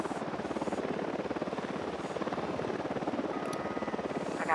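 A helicopter in the video game Ghost Recon Wildlands thrums steadily with fast, even rotor chop, loud and close throughout, with no talk over it.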